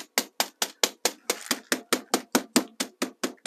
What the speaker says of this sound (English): Grab your hammer and